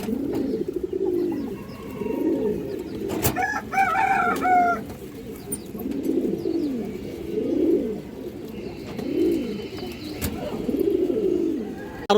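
Black-necked pigeons coo in soft, repeated rounded phrases with a steady rhythm, close and moderately loud, broken by a brief flutter and a few sharper calls partway through.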